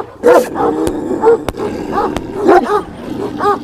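A kangal-type shepherd dog at a village livestock farm gives several deep, rough barks and growling calls close by, in bursts across a few seconds, with background noise between.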